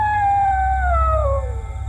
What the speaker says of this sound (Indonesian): suara lolongan anjing tadi benar-benar tidak biasa dan juga menyeramkan